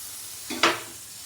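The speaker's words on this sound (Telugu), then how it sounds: "దీంట్లోనే బంగాళదుంపలు వేసేద్దాము. బంగాళదుంపలు వేసేసి కొంచెం బఠానీలు కూడా వేద్దాము." Potatoes and peas dropped into a pan of softened onion, giving a single short burst of sizzle with a stirring scrape, near and alone, fading quickly.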